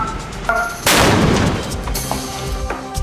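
A sudden, loud bomb blast from an explosive ordnance disposal unit in Narathiwat, Thailand, erupts about a second in, then rolls off into a long rumbling decay, with faint tonal sounds beneath.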